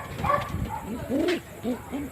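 Pigeon kept for winter cooing nearby, a few soft, low, rounded coos in quick succession over a quiet background.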